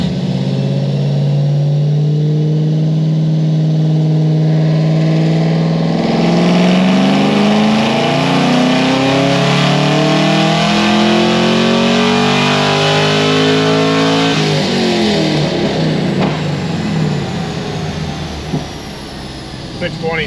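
A Chevrolet Camaro ZL1 with upgraded fuel system roaring through a dyno pull, engine pitch climbing steadily and loudly over about fifteen seconds before backing off, very close and continuous.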